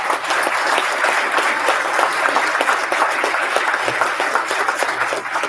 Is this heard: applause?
yes